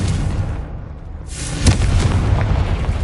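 A Confringo explosion spell in Hogwarts Legacy lands as a loud, rumbling blast. A brief lull follows, then a sharp burst and sustained roar that carries through to the end.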